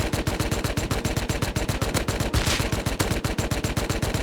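New Tommy submachine gun in Rust fires a rapid, steady burst of automatic shots, loud and close, with sharp evenly spaced reports and no talking.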